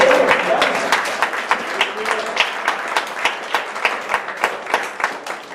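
A church congregation at an Easter Sunday resurrection service applauds with a mix of scattered and rhythmic clapping, fairly loud and close, while voices and singing carry on over it throughout.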